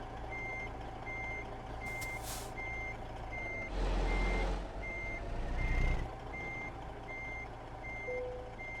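Reversing beeps from a truck in American Truck Simulator, a steady evenly spaced series of about a dozen beeps over engine rumble, with a brief air-brake hiss partway through; no talking.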